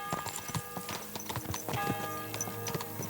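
Horse hooves clip-clop in Kingdom Come Deliverance 2, a steady close trot of sharp hoof strikes with a brief whinny-like tone, and no talking.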